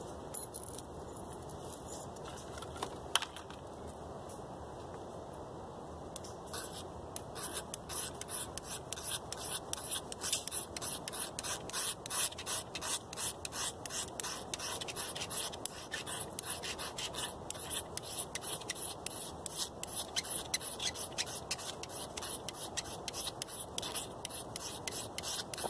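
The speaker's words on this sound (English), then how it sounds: "when you scrape the tarnish off, it's very shiny underneath" Scraping the tarnish off a piece of magnesium metal, a steady close rasping scrape that grows into rapid repeated strokes, with no talking.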